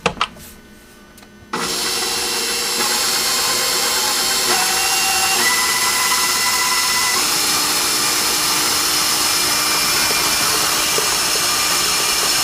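An electric mixer's beaters whirr steadily through chocolate cookie dough, kicking on loudly after a brief quiet moment and running as a constant, close drone with slight pitch shifts for several seconds.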